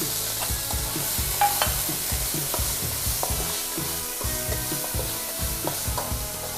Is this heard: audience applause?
no